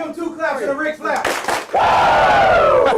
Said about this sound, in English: Give them 2 claps and a Rick flap.